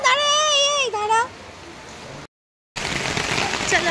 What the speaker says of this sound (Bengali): আবার জোরে এলো নাকি রে বৃষ্টিটা?